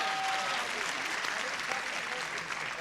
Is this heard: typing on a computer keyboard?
no